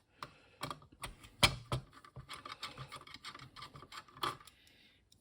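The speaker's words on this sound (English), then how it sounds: "Let's just take the screws out first." Screws are being taken out of a YD-180 8-inch floppy drive during a restoration: a close, irregular run of small metallic clicks, scrapes and taps with short pauses between them, and no talking.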